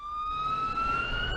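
A police siren wails in a single sustained rising tone, loud and close, with no voices, at a shooting scene on a community college campus.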